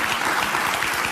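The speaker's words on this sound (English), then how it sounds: "Think about people actually clapping for this." An audience claps in dense, steady applause, loud and continuous throughout.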